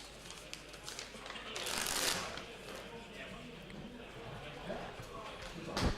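Players shuffle playing cards at a Magic: The Gathering tournament table, a brief rustling riffle burst near the start against a steady murmur of background voices.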